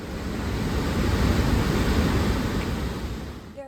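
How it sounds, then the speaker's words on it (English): A waterfall's dense, steady roar of rushing water fills the scene, swelling slightly and then easing, with no voices. "the sound of this waterfall certainly lives up to its name"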